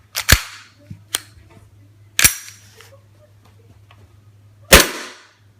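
TM M&P 9 airsoft pistol fitted with a Detonator slide being dry fired, four sharp, loud cracking snaps spaced irregularly over a few seconds with quiet hum between shots.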